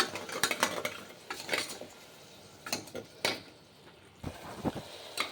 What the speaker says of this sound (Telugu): టమాటో పేస్ట్ కొంచెం పచ్చివాసన పోయేంత వరకు వేసుకుందాం.